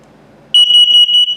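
An RV's combined LP and carbon monoxide detector sounds in test mode: a sudden loud, piercing electronic tone that starts partway in and holds with a slight warble, very close, after a faint murmur of background noise.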